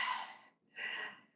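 A voice imitates heavy, congested breathing: two rough, raspy breaths close up, each about half a second, separated by a brief pause.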